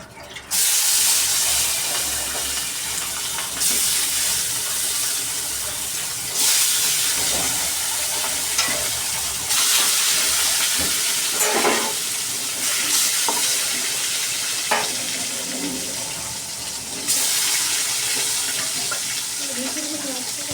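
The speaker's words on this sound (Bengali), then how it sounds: "মাছগুলো ভাজা হোক" Steady loud hiss and crackle of fish frying in hot oil, continuous throughout with occasional sharper spatters, no voices.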